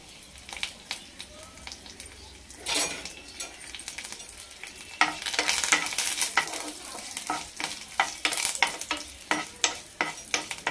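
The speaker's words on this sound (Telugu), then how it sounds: "పచ్చడి అందులో వేసేసుకుందాం" Chilli chutney stirred into sizzling tempering in a pan, a spoon scraping and clattering in repeated strokes over a continuous close fry that swells midway.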